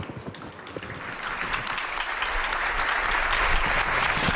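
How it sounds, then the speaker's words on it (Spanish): Congregation applauding after a cardinal's homily at an outdoor Eucharist celebration, a dense sustained wash of many hands clapping that builds and holds steady, heard at a distance without speech. "ahora están recogiendo los aplausos todos los asistentes a esta celebración de la Eucaristía"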